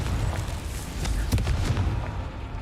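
A Confringo fire spell blast in Hogwarts Legacy, a burst of booming explosive noise with a sharp crackling peak midway, rumbling low and filling the short moment without speech.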